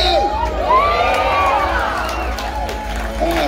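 Rodeo crowd at the Pana'ewa Stampede in 2020 whooping and yelling in rising and falling yee-haw calls over a constant low hum, a voice speaking among them.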